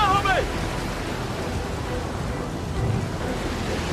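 A fierce storm at sea, with broad, steady roaring noise like heavy rain and surf lasting throughout, and a short tonal sweep near the start; the rumble holds at a constant, moderately loud level with no talk.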